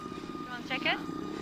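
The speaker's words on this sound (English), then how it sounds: "a large remote-controlled aeroplane will carry Herky aloft and then drop him" A large remote-controlled aeroplane carrying a model pterosaur aloft drones with a steady, buzzing propeller hum at moderate distance, with a brief higher sound breaking through midway.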